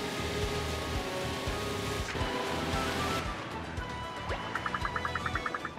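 Ocean waves in the video game Paper Mario: The Origami King wash in a steady, full surf sound, joined near the end by a short run of bright rhythmic chimes.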